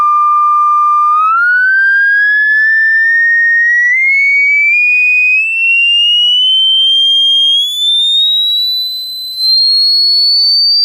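A pure electronic test tone from a frequency generator, starting near 1 kHz and gliding steadily upward in pitch, loud and continuous with no talking.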